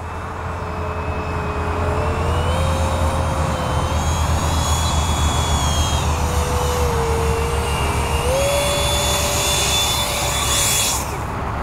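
A home-made model jet aircraft with a thrust vectoring system flies overhead, its engine whining steadily and loudly throughout, the pitch sliding up and down as it maneuvers, with no voices over it.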